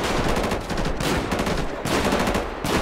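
Bursts of gunfire during a bank heist shootout in GTA 5, heard as rapid automatic fire in several loud clusters separated by short gaps, with no talking.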